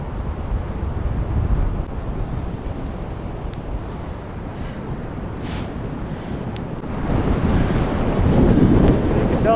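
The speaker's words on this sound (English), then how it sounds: "this is the beach at Cape Disappointment" Pacific surf breaking on the beach at Cape Disappointment, Washington, near the North Head Lighthouse: a continuous loud wash of waves mixed with gusty wind buffeting the microphone, swelling stronger toward the end.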